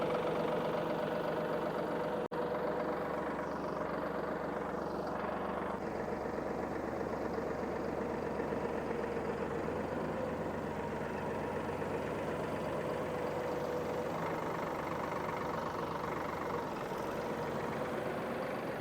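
A steady, low tractor engine idle rumbles continuously, close and even, with no voices over it.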